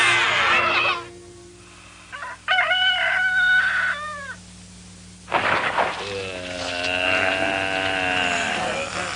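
A rooster crows several times, loud and close, with harmonic calls in separate bursts across a dairy farm, and a bleating sheep or hen clucks mixed in between.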